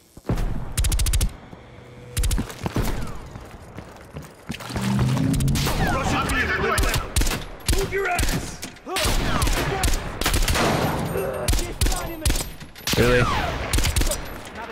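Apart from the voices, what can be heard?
gunfire from a distance in Call of Duty Black Ops Cold War video game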